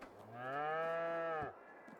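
A single drawn-out cow moo from livestock in the farming game Farming Simulator 22, rising and holding steady for about a second before ending, fairly close with quiet game ambience around it.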